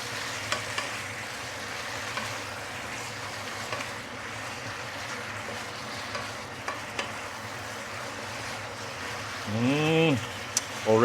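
Chicken sizzles and fries steadily in a pan as dark soy sauce is added and stirred, with a continuous hiss and a few scraping clinks, and a voice briefly heard near the end.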